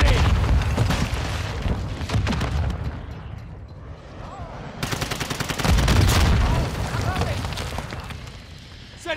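Gunfire and a flashbang burst in Call of Duty: Modern Warfare II, with loud rapid shots, booms and a sharp blast amid radio-style game voices, dense and continuous throughout.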